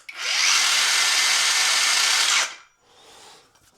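A Hercules 4.5-inch brushless saw runs with a smooth high-pitched whine for about two seconds at arm's length, then cuts off and quickly spins down with a faint fading tail.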